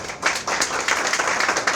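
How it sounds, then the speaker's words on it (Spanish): An audience at a talk event about death welcomes a guest speaker with applause: a short burst of dense, steady clapping, fairly close and even throughout, with no voices. "Dale un fortísimo aplauso, por favor."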